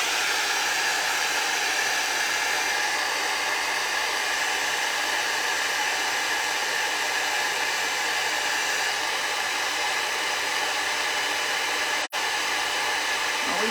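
A heat tool blows hot air to melt white embossing powder on a handmade birthday card, giving a loud, steady, unbroken whir with one very brief dropout near the end.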